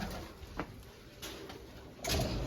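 Pigeons kept at home coo softly during their evening grain feeding, a few faint, brief calls over a quiet background.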